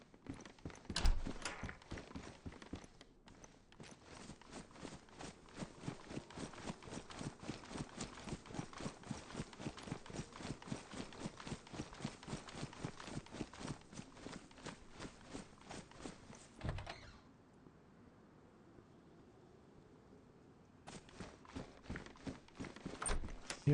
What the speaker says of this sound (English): Hear footsteps. Somebody's on like the road or something though.